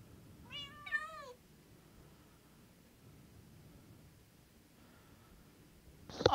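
A cat meows a couple of times close by, short rising-falling calls near the start, followed by quiet room noise and a faint later sound.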